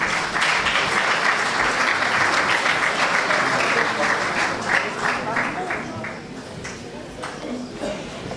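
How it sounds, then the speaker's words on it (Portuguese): Audience applause after a staged folk dance and music performance, loud, dense clapping from a large crowd that holds steady and then gradually tapers off. "Uma salva de palmas."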